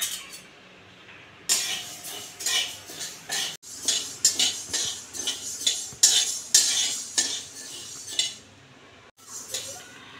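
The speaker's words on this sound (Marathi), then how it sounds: "आता आपण याच कढईमध्ये" Moong dal dry-roasting in a kadhai is stirred with a metal spoon, giving repeated rough scraping and clinking strokes in irregular bursts, close and fairly loud, with brief pauses between strokes.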